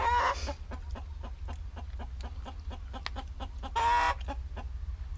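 Chickens cluck in a rapid, steady run of short clucks, close by, with two louder squawking bursts near the start and end over a low background hum.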